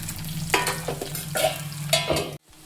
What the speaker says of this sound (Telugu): నెక్స్ట్ ఉల్లిపాయలు ఒకసారి మంచిగా కలుపుకొని మూత పెట్టుకోండి.